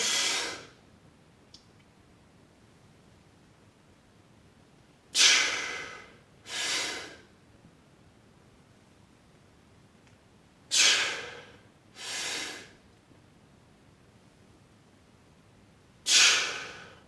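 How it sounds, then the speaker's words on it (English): Sharp, deep breaths drawn in before a barbell back squat, heard as three pairs of loud close breaths with quiet gaps between them and no talk. "Valsalva, big deep breath in, bracing my core"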